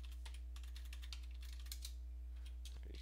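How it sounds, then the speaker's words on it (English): Close, steady clicking of keys on a computer keyboard while entering calculations, a continuous run of light taps over a constant low electrical hum, no voices. "Right now, I'm just typing in with the keyboard, putting into some random calculations."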